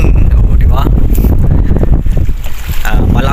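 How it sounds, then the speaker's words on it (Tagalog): Strong wind roars over a small wooden fishing boat at sea after heavy rain, a loud, steady rush of gusting air and microphone buffeting that fills the whole stretch with only a brief dip near the end. "Kanina ang lakas ng ulan, tapos ngayon hangin naman."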